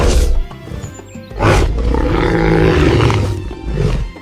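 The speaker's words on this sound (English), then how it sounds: "This is a tiger." A tiger roars loudly and close, with several deep growling bursts and a long rolling roar in the middle, with no talk over it.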